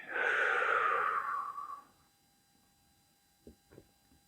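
A long, breathy exhale close to the microphone fades out, followed by quiet and then two soft, short breaths.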